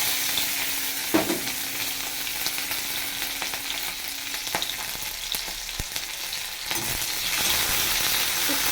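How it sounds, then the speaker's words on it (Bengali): Gondhoraj lemon leaves, green chillies and onion crackling in hot oil as a tempering, a dense steady sizzle punctuated by occasional spatula scrapes and clicks. "তার সঙ্গে দিয়ে দিচ্ছি আমি কাঁচা লঙ্কা আর একটু পেঁয়াজ ফোড়ন।"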